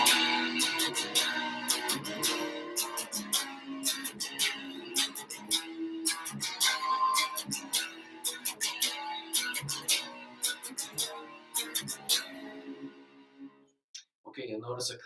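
Acoustic guitar playing a song, with rhythmic strummed strings and picked notes at a moderate pace, close and clear, ending with a brief pause and a final strum.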